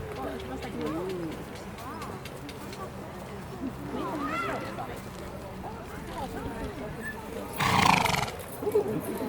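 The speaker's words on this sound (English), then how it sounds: "The cavalry have arrived." Cavalry horses arriving at a Roman fort reenactment, with repeated neighs and whinnies and clip-clopping hooves over a crowd, a commentator talking throughout, and a louder burst of noise near the end.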